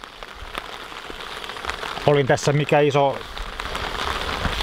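Steady rain patters over a lake during a wilderness trip on Lake Inari, forming a constant hiss throughout, while someone speaks briefly in the middle.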